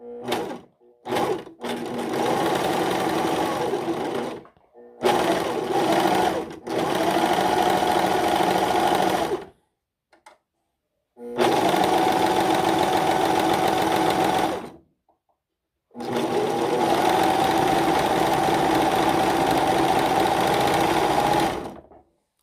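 A Singer S0235 sewing machine runs in long steady bursts while sewing and trimming a blanket-stitch edge, its motor whirring loud and close, with short pauses between the runs and no talking.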